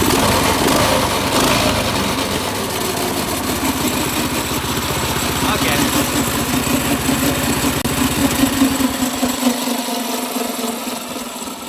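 A small engine on a drift trike runs close by with a loud, even rumble and buzz, settling into a slightly unsteady idle, then drops away near the end as the low end fades out.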